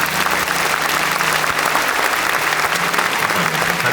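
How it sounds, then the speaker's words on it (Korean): Loud, steady applause fills a hall as an audience claps for newly ordained pastors at a church ordination ceremony, a dense continuous wash of hands lasting throughout. "이제 인사하실 때 큰 박수 맞아주십시오."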